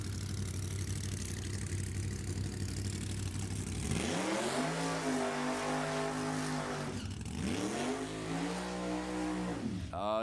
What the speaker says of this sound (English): Oh, yeah, you got to love a couple of blower cars.